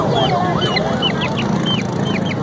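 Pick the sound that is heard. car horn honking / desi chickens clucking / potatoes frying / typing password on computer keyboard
desi chickens clucking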